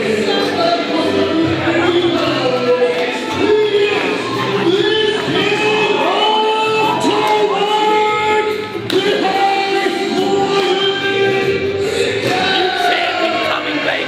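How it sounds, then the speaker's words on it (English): A wrestling show crowd in Colac cheers and roars in a steady, loud wall of noise that stays dense throughout, with sharper shouts rising now and then. "The crowd are getting up and about."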